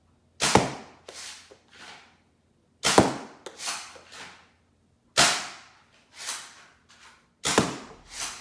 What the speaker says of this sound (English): This is firing the black worker bamboos out of the same Swift with the 8-threaded scar.